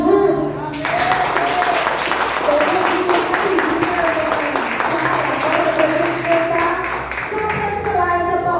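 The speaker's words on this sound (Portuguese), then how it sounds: "palmas para Jesus" A Portuguese-speaking church congregation claps after a sermon, a dense sustained round of applause mixed with voices and a tonal hum running underneath throughout.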